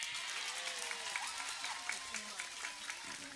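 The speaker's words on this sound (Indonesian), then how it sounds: "tepuk tangan" Applause from an audience at a Nahdlatul Ulama religious gathering in Cirebon, a fairly faint, uneven patter of clapping with murmuring voices and some talk underneath.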